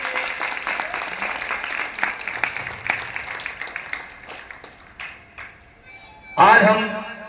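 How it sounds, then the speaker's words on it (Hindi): A crowd at a Bhagwat Katha gathering in Shivnagar Colony, Panipat, gives the Maharaj a dense round of applause that thins out over several seconds. A bright ping and a short burst of noise follow near the end. "तालियां बजाओ महाराज जी के लिए"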